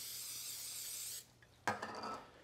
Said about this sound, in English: I've got a 2-quart baking dish that I'm gonna spray with a little nonstick cooking spray.